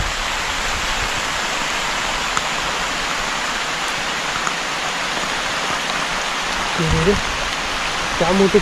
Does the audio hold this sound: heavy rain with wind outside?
yes